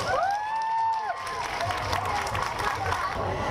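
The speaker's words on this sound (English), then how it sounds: "How about a round of applause for..." An audience at a World Refugee Day event claps and cheers, with a few high whoops at the start and then a steady mix of crowd noise and clapping.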